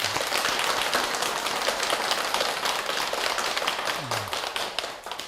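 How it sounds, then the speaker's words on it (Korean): A congregation at a Buddha's Birthday dharma talk in a Korean Buddhist temple claps in a dense, even patter resembling rain, sustained and moderately loud without speech. "큰 박수 한번 부탁드리겠습니다"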